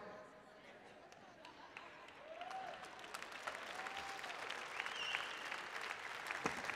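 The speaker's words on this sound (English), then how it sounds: "Well, you're not all clapping" Scattered, faint clapping from a crowd builds up gradually, with murmuring voices in the background.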